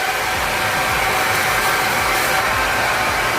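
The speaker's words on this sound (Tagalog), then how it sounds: "So, kailangan i-blower na natin yung buhok." A hair dryer blows steadily on hair during a DIY Brazilian blowout treatment, a loud continuous whooshing roar with no talking.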